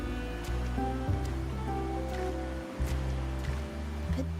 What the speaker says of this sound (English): But today's rain feels different.